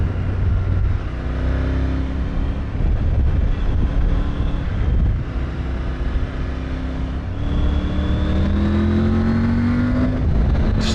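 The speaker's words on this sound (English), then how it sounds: "Sounds awesome, this engine." A motorcycle engine rides along a winding mountain highway, revving up and down through gear changes, with rising and falling pitch sweeps under heavy, steady wind rush on the microphone.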